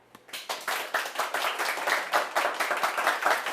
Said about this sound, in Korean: 이막태 박사님을 큰 박수로 자리에 모셔보도록 하겠습니다.